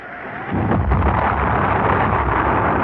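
A rocket launch in a radio drama: a sudden deep, thunderous roar kicks in after half a second and holds steady and loud to the end, with no voices.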